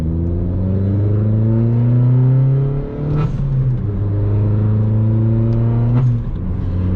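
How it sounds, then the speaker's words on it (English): An Audi A1 with induction kit and blow-off valve revs up loudly in repeated climbing pulls, each ending in a brief blow-off hiss as the throttle closes, close by with no talking. "you can hear the blow-off valve way more than the induction kit"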